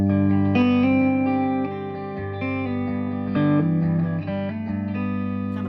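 Overdriven electric guitar played through an RC (Real Clean) booster pedal with a little delay added, sustained ringing chords with echoing trails, loud and upfront with no voice.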